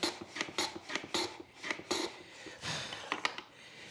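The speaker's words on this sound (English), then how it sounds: "Now we'll go in and square up one end." A hand plane shaves the end of a board on a wooden shooting board, making a rhythmic series of close, raspy strokes, each a brief scraping swish with short gaps between.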